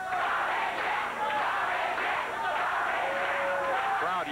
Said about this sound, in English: Crowd yelling at Tojo Yamamoto.